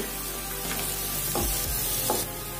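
Onions with salt frying in a pan while being stirred, a steady close sizzle with a few soft scraping strokes of the spoon, no voices.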